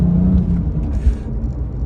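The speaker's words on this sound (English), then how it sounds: "I think we should take this car for a drive, see what it looks like on the road" Porsche 996 GT2 driving on the road, a loud close engine hum and tyre roar with a slight swell midway, steady whirring rumble without speech.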